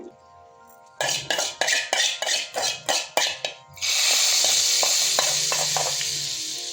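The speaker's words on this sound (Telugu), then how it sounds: "ఈ వేగిన తాలింపు గింజలను అయితే మనం ముందుగా రెడీ చేసి పెట్టుకున్న ప పప్పు ఫ్రైలో అయితే యాడ్ చేస్తున్నాను" A metal spoon taps a pan about ten times in quick rhythm, then fried tempering seeds drop into cooking palak dal fry with a sudden loud hiss that settles into a steady sizzle.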